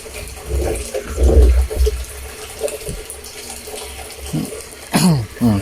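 Water gushes from a tap fed by a newly installed water pump, a loud, uneven splashing rush with surges, while people talk over it.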